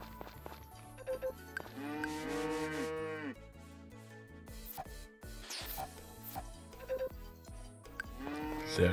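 A farm cow mooing in the game Story of Seasons, a couple of drawn-out bellows rising over light, chiming background game music, with short interface blips between them and no talk.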